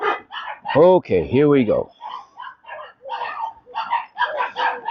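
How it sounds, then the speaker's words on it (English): Dogs barking outdoors on a morning ride, a short run of loud, close barks near the start, with someone talking over and after them. "We'll get out of the barking dogs."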